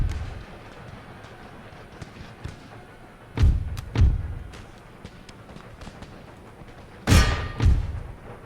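Musket volleys boom as deep, heavy thuds in an Empire Total War battle over fortress walls with Russian forces. Two pairs of blasts come several seconds apart over a low rumbling background.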